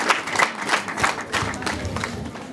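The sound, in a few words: applause at a wedding ceremony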